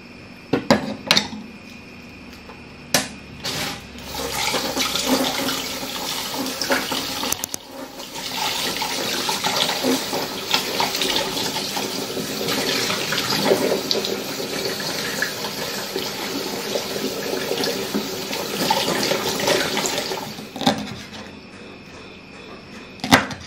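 Squid being cleaned under a running kitchen tap, water splashing steadily into a sink with clinks of dishes and handling noises, close and continuous for most of the time with a few sharp knocks at the start and end.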